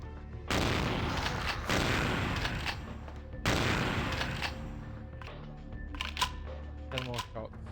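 Gunfire in the vampire action RPG Vampire: The Masquerade – Bloodlines, two loud dense bursts of shots with a fading tail, followed by quieter scattered clatter and movement.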